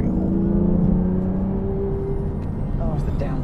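Aston Martin Vantage S V12 sports car engine blipping on a downshift, a loud, close, rising-then-falling engine note with a whirring undertone, heard while people talk.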